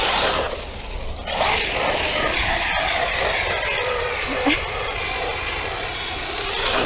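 ARRMA Talion RC car motor at full throttle with large scale tires: a loud, sustained high-pitched whine and hissing roar that swells and holds close, with a brief dip near the start.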